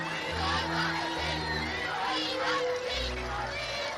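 A large crowd of about 10,000 people on the Mall in London, gathered to see the royal family, makes a loud continuous roar of voices with whoops and cheers rising and falling throughout.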